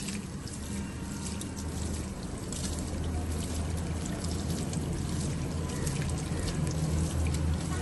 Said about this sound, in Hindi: पालक को जो है अच्छे से हम कर लेते हैं वॉश